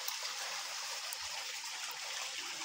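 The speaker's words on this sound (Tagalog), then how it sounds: "Ito yung tubig na kinukuhanan nila ng pure gold." Flowing stream water, the source said to yield gold, rushes and trickles steadily and fairly close throughout, a dense even wash with no voices.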